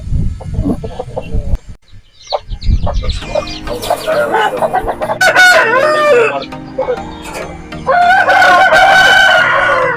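A rooster crows loudly nearby at a poultry farm, then crows again, among clucking native chickens and a brief human voice at the start.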